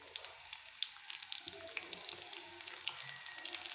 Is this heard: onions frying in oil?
yes